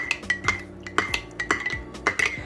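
A utensil mixing vinegar into a jerk pork marinade in a bowl, with quick rhythmic clinks and scrapes against the bowl at close range and no talking.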